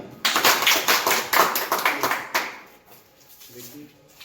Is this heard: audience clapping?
yes